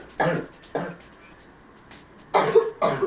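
Four short coughs sound nearby in a quiet room, two close together at first and two more after a pause, each a brief harsh burst.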